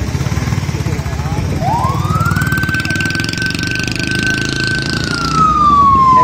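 An ambulance siren sounds at a road accident scene in North Nazimabad, Karachi: a loud rising wail that climbs, holds a long steady tone, then begins to fall, over street and traffic noise.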